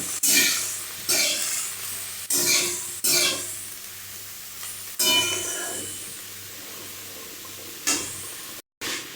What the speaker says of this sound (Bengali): এবার আমি এটা নাড়বো